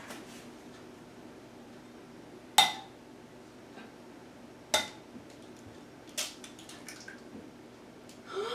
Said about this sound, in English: Now I'm going to add my other egg.